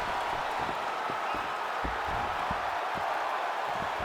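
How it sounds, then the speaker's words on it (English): A mixed martial arts crowd roars in a dense, steady wash of cheering and applause that fills the whole moment, loud and continuous with faint voices mixed in. "The crowd's going crazy because they appreciate high-level mixed martial arts"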